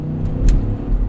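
A 2021 Cadillac Escalade Sport Platinum engine accelerating under throttle, a low rumbling surge that swells in the middle of the brief moment, heard from inside the cabin.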